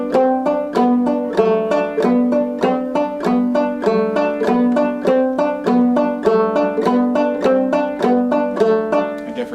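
Strings played with Briggs' hammer stroke in the first movement: a steady, even series of sharply accented strokes, each attack clipped and separated, repeating in a regular loud rhythm with no talk.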